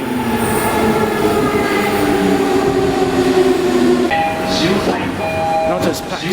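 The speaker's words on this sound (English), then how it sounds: "Okay, here's our train." A Tokyo commuter train pulls into a station at rush hour, a steady rolling rumble with metallic squeals and brake tones rising near the end as it slows, under crowd murmur.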